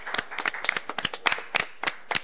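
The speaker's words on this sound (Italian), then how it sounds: "un applauso per tutto lo staff di Radio Maria Ucraina" A few people clapping for the Radio Maria Ukraine staff, sparse and uneven claps close by, about a dozen sharp slaps over a couple of seconds.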